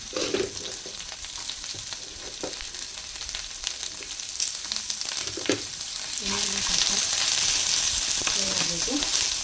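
Green chilies, garlic, ginger, cinnamon, cloves and onion hit hot oil in a pan for a veg pulao, giving a loud, steady sizzle with occasional stirring scrapes, growing louder toward the end.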